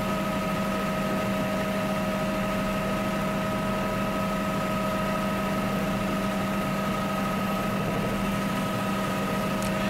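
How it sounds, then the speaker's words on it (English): Helicopter rotors heard from inside the cabin during a flight over Florida, a steady loud droning hum with constant tonal whine and low vibration, unbroken throughout with no talking. "You can obviously hear the rotors overhead"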